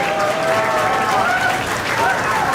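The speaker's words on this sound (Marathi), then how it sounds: "जोरदार टाळ्या वाजवून आपण त्यांचे स्वागत करूया" Audience applause welcoming a teacher at a high school batch reunion, a steady wash of clapping and crowd noise lasting throughout, with voices mixed into the crowd.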